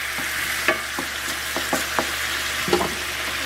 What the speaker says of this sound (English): Just give that a little stir, add a little bit more stock, give that a stir.